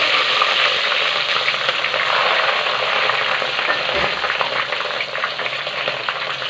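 Chopped onions and green chillies sizzle and hiss steadily in a hot frying pan, with a spatula scraping and stirring through them up close.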